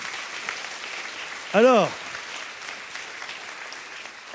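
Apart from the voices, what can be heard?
congregation applause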